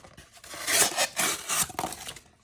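A CJRB Ekko folding knife with a stone-washed flat-ground blade slices through cardboard in a series of quick, close, scraping rasps that come in rhythmic strokes, with no talking.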